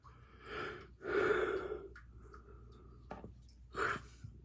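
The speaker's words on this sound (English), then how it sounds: "Excuse me for yawning." A person yawns with long, breathy exhalations, two drawn-out sighing swells early on and another near the end, close and fairly soft with quiet room tone between.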